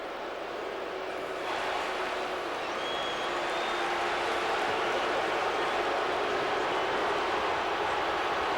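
Stadium crowd of more than 100,000 in Columbus, Ohio cheering quarterback Troy Smith at a college football game, a broad distant roar that swells louder after the first second and holds steady.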